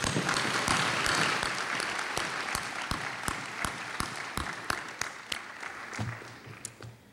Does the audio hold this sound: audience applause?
yes